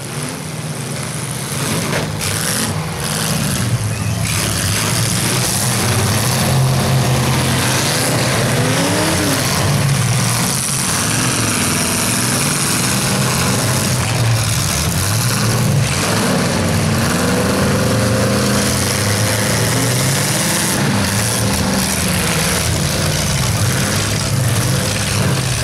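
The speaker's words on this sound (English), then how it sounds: "I hear a whole lot of motors down there" Full-size cars at a night demolition derby in Scott County rev their engines together in a loud, continuous roar, with rising and falling revs layered over a steady rumble heard from across the arena.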